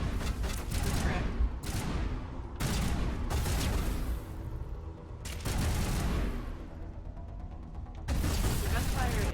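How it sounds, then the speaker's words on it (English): Loud bursts of rapid gunfire in Mass Effect Legendary Edition, coming in several long volleys separated by short pauses, with game effects and a voice heard between them. "The gunfire is very loud."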